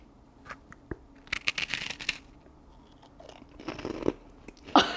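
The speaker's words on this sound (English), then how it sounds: "Oh, that one really had a nice crunch" A Korean snack cracker is bitten and chewed close to a microphone in ASMR style, with crisp brittle crunches in irregular bursts, loud snaps and grinding crackles, and short quiet pauses between.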